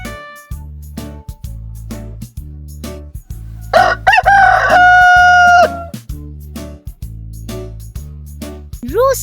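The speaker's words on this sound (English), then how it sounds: "Rooster." A rooster gives one loud crow in the middle, rising and holding before it trails off, set over bouncy, rhythmic background music.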